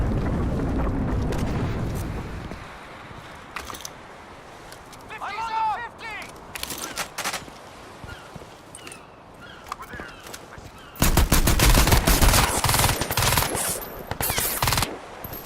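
Heavy .50 cal machine gun fire in Crysis 2, loud sustained bursts at the start and again near the end, with scattered shots, explosions and a speaking voice between them.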